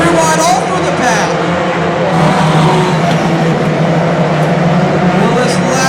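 Race cars roar around an oval racetrack, their loud engines droning and shifting pitch as they pass, with an announcer talking over the noise.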